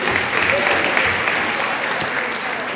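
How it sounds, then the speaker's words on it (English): Sustained applause from an audience at a Hispanic Heritage celebration after a tribute, a steady dense wash of clapping throughout, fairly loud and near, with no talk over it. "Another round of applause."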